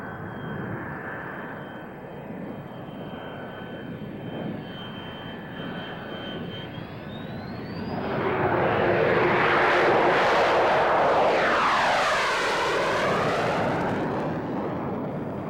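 A two-seater fighter jet's engine roars loudly, with a steady rumble that swells to a powerful, whooshing roar midway as the jet passes close by, no talking.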